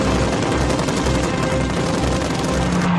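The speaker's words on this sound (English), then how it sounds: "The fighter had a good armament of 2 rapid-firing Shkas machine guns and a 20mm" Shkas machine guns and a 20mm ShVAK cannon on a Yak fighter fire in a loud, continuous, rapid stream of shots, with heavy rhythmic thumps underneath throughout.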